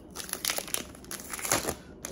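Cardboard and plastic packaging for a Logitech K380 wireless keyboard crinkles and rustles as the box is opened, a close, steady scratchy crackle with brief louder crumples.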